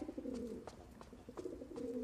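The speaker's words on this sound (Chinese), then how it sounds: "鸽子" A pigeon coos in repeated low, throaty phrases, fairly close and soft, with short pauses between calls and no talking.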